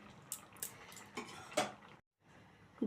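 A spoon clanks and scrapes inside a pot while chicken pulao is stirred, several distinct metallic knocks in quick succession, a brief silent gap, then another clink.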